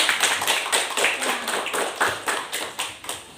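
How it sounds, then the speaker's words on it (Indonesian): Steady hand clapping from a group at a school teacher-training session, a continuous patter of claps with rhythmic peaks, fairly loud and close. "Oke, tepuk tangan."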